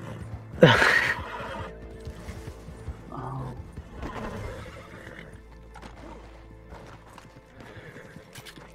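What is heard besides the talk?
horse neighing and hooves, Red Dead Redemption 2 video game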